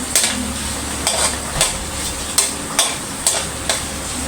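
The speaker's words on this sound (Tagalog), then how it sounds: "Gisa-gisa muna lahat." Vegetables for pancit bato sizzle as they are sautéed in a pan, with a steady frying hiss broken by regular clinks and scrapes of a utensil stirring against the pan, close and without talk.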